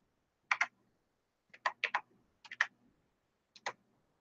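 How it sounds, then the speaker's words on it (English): Slow typing on a computer keyboard, quiet close key clicks in small clusters of two to four separated by pauses, with no talking. "so I'm going to type in there"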